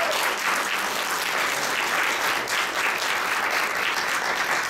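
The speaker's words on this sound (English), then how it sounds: "Everybody give them a round of applause." Steady, dense applause from a large keynote audience at a hot chocolate event, sustained at an even loud level for the whole stretch with no voices breaking through.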